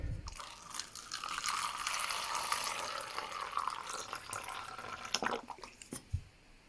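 Water poured into a pot for rooting ficus microcarpa cuttings gives a steady splashing, trickling rush for several seconds, with a few crunchy handling sounds near the end.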